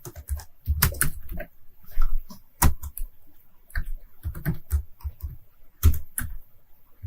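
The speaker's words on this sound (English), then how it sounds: "Then I'm going to type in the services" Keys clatter in irregular bursts on a computer keyboard while services such as graphic design are entered, with clustered taps and short pauses, fairly close and with no voice.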